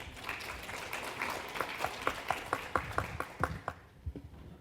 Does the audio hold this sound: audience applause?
yes